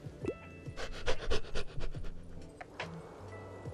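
Behemoth, a dog in the video game Tiny Bookshop, pants in quick rhythmic breaths throughout, fairly close and moderately loud, over soft game music tones.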